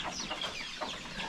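Upgraded chickens on a farm cluck close by, several overlapping birds chattering in short, busy calls.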